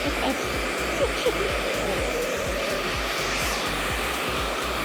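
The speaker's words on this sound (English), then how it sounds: "Because we're rushing, we can use 2 blow dryers if you guys want it." Two blow dryers run during a keratin treatment in a hair salon, giving a loud, steady whooshing whine with a fast rhythmic flutter throughout, close by and with no speech.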